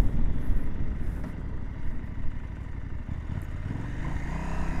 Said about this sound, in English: the bike doesn't sound very nice